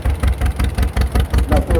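A 1948-era Nuffield vintage tractor engine chugs past in a parade of vintage tractors, military trucks and cars in Cupar, Scotland, with a steady, rhythmic low thumping that sounds close and fairly loud.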